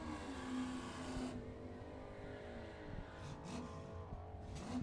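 Drag racing cars, a Mustang and a Challenger, roar down the track at a Super Pro, Pro, Street and Sportsman event; a sustained distant engine drone shifts pitch as the cars pull away, with no one speaking.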